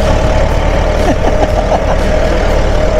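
A tractor engine runs loud and steady up close during a sugarcane harvest on a rough road, a constant low rumbling drone with no break.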